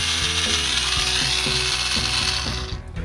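A ratchet clicks in quick, even bursts as it backs a screw out of a holster's hardware, close and mechanical, winding down at the end.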